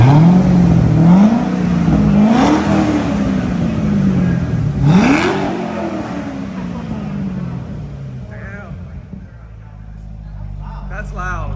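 A Corvette Z06 with an LS7 engine and Borla exhaust, valves open, revving loudly up and down in several rising sweeps before settling to a lower idle, with voices nearby.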